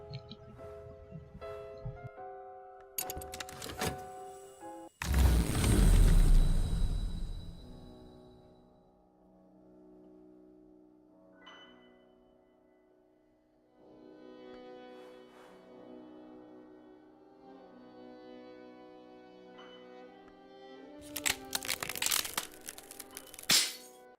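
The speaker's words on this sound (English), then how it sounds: "the game's full of little sound effects like clinking clocks and grinding gears" Atmospheric sound design from the occult card game Cultist Simulator: sustained tonal drones and chimes layered with sharp cracking, crunching bursts and brittle clinks, swelling and fading over a quiet ambient bed with no speech.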